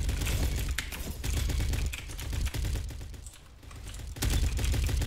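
Rapid bursts of gunfire from a Roblox shooter game, dense crackling shots running almost continuously with a brief lull before resuming loud near the end.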